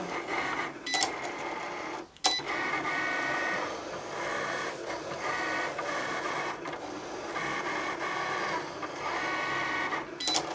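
A Cricut Explore cutting machine draws with markers, a steady mechanical whir of carriage motors that rises and falls as the pen travels, broken by brief clicks and short pauses as the head changes direction.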